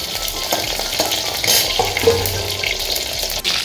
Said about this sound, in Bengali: এগুলো এবার ভেজে নিচ্ছি হালকা করে গরম করে নিচ্ছি